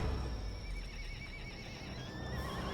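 Several magebred horses pulling a coach neigh and whinny in a fantasy tabletop sound effect, wavering cries over a dense rumbling bed of hooves and movement, fairly quiet overall.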